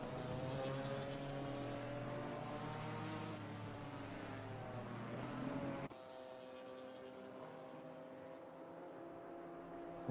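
A BMW GT4 race car engine in the Assetto Corsa Competizione racing game drones at high revs around the Kyalami circuit, then drops abruptly to a quieter, lower tone partway through.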